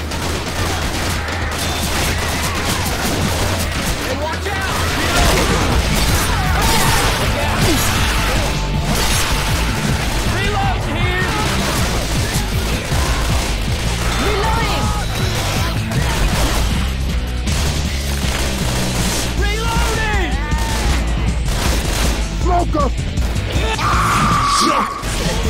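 Dense, loud gunfire from the zombie shooter Left 4 Dead, continuous volleys and bursts crowding over one another amid crashes and yells, a chaotic battle that never lets up.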